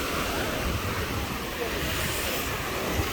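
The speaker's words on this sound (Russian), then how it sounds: "А вот это море. Вот это волны тут." Sea waves washing onto a clean sandy beach in Busan, a steady loud roar of surf mixed with wind buffeting the microphone, continuous and close.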